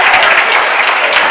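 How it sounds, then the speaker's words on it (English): Crowd clapping in a high school basketball gym during a Rural Special vs Shirley game, dense steady applause filling the space throughout, loud and continuous with no pauses. "Sorry, everybody started clapping."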